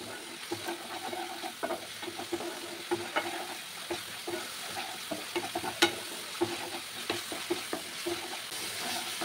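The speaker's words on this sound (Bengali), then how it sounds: "এই পুরো মশলাটা কিন্তু বেশ ভালোভাবে কষাতে হবে।" Spice paste for bhola fish curry frying in a pan with a constant sizzle and frequent scraping strokes of a spatula, moderately close and without any voices.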